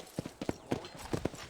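Horse hooves clip-clop in the Red Dead Redemption video game, several close, evenly spaced strikes in a steady walking rhythm with no talk over them.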